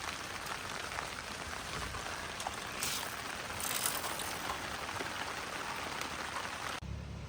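Steady rain falls at a riverside campsite in Tanay, Rizal, a dense continuous hiss of drops pattering on surfaces nearby, even and unbroken with no voices.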